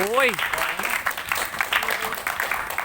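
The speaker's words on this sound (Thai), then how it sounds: "ปรบมือเพื่อนหน่อยดิ" A room of people applauds a friend at the end of a timed challenge, a dense wash of clapping that runs for about three seconds after a brief voice at the start.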